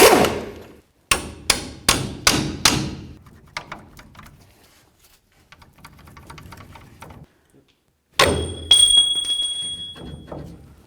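A hammer strikes hard to separate the strut from the lower control arm of a Dodge RAM 1500's front suspension. There is a burst of five loud, evenly spaced metallic blows, then lighter clatter, then a ringing strike near the end.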